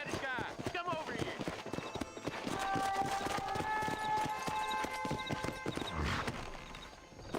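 Horse hooves clip-clopping in the video game Red Dead Redemption, a rhythmic series of soft hoof beats under game music and effects, with a person talking over them.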